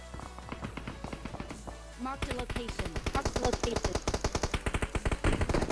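Automatic gunfire rings out in the PUBG Mobile video game, starting as scattered rapid shots and then becoming a loud, sustained run of bursts. The shooting continues to the end, and a voice talks underneath.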